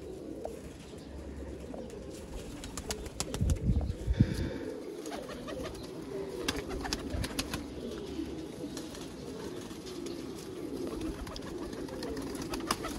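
Pigeons being shown for sale coo steadily, with soft repeated low coos mixed with rustling and faint background noise, heard near and continuous with no talk over them.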